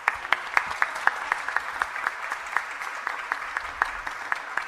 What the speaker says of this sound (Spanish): Un aplauso para Sofía.